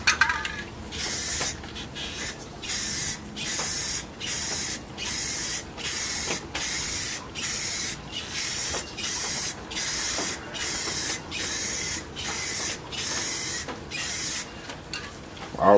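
Rust-Oleum 2x Ultra Color gloss black spray paint hisses from an aerosol can in about a dozen short, even bursts with brief gaps between them, close and steady.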